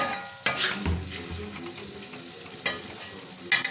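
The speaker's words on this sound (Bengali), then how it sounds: "এরকম করে মাছের তেল রান্না হয়" Katla fish fat fries in a pan with a continuous sizzle, broken by a few loud spattering bursts and the clatter of a utensil against the pan, heard close and without talk.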